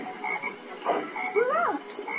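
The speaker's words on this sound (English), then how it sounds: "You got croaked by a green frog." A frog croaks in the Sonic Heroes video game, a short run of throaty, rising and falling croaks heard alone and close over a steady game background.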